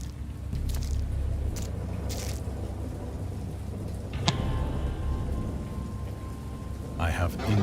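Steady rain patters under rumbling thunder in the game Dagon, a constant wash of storm noise with a sharp crack midway and a louder swell near the end, with talk faintly beneath.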